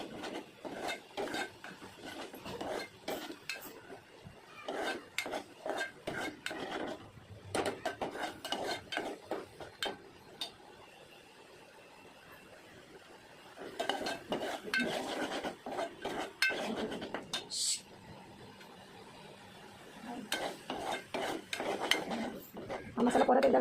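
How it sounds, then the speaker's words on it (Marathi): Masala being roasted in a pan with a little oil for a bitter gourd curry, repeated clinks and scrapes of a spoon against metal in bursts with quiet gaps. "हा मसाला परत एकदा व्यवस्थित भाजून घेतला ना की भाजीला कारल्याच्या एकदम चव वेगळीच येते"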